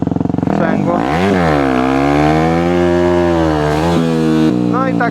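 A motorcycle accelerating hard in second gear for a wheelie, loud and close: a short burst of revs, then a long rising and falling engine howl, before it cuts off to a quieter rev.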